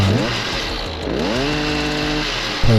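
A Stihl HS56 hedge trimmer's two-stroke engine runs loud and close after a gearbox housing repair, revving up and dropping back with a buzzing, rising and falling pitch.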